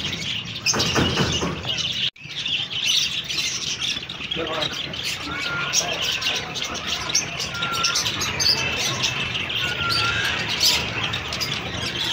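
Small yellow budgerigars chirp and squawk busily nearby in a dense, continuous chatter of short tweets, with someone speaking over the birds in places.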